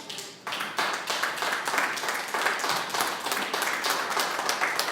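A church congregation applauds, with many hands clapping in a fairly regular rhythm, moderately loud after a brief quiet start.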